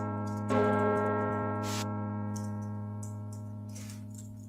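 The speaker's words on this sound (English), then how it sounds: "The sound of the bell chiming overhead is one that you have not heard for a very long" A bell chimes overhead in a sustained, ringing tone that decays slowly over several seconds, with a sharp new strike near the start and faint ticking beneath, heard alone without speech.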